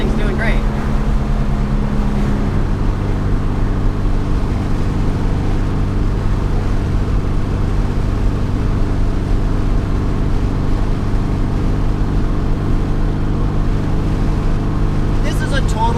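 A Porsche 356C engine labours steadily up a big hill, a continuous low drone heard from inside the car, with no talk over it.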